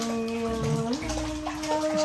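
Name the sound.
baby splashing water in a bathtub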